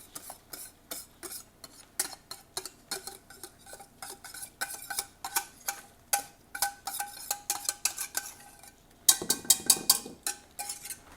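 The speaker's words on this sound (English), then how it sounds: "Now I'm going to take and go the other way and put the sauce into the egg whites." Cheese sauce being folded into whipped egg whites for a soufflé, heard as a steady run of close, soft scraping and stirring strokes of a utensil against a bowl, with a brief louder clatter near the end.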